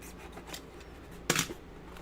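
Scissors make a single crisp snip through Borg costume material, close and brief against a quiet room background.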